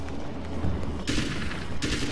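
Gunfire in the video game Alan Wake: two sharp, loud shot bursts with noisy decaying tails, separated by under a second, over a low game ambience with no talking.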